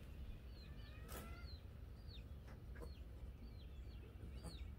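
A hummingbird that has strayed inside a greenhouse gives faint, high, squeaky chirps and brief wing flutters in a soft series over a quiet, steady background hiss.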